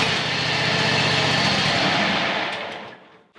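An old, long-unused engine with a choke roars loudly and steadily up close for a few seconds, then sputters and dies away abruptly, with no talk.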